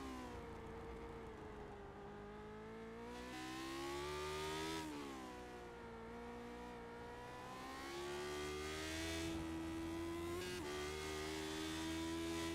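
Lotus 79 race car engine in a retro racing video game on the 2.2 mile Mid-Ohio road course, heard from onboard as a loud, continuous whine that rises and falls through gear changes, with no talking.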